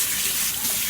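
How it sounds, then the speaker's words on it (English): Tap water runs and splashes as a plastic lid is rinsed, a loud, close, continuous rush lasting about a second. "So I'm going to rinse my lid"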